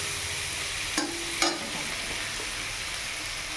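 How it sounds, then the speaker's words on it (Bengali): Onion and green chilli fry lightly in a pan with a steady, close sizzle, broken by two brief clinks of stirring about a second apart. "এর ভিতরে একটু কাঁচা লঙ্কা দিয়ে দিলাম, এটাকে ভালো করে একটু হালকা ভাজা ভাজা করে নিই।"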